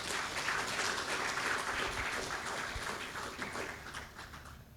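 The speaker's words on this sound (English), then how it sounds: "this is a moment to give a big applause to all the organizing team" An audience at a felicitation function applauds the organizing team, a dense, steady wash of clapping that holds for several seconds and tapers slightly at the end.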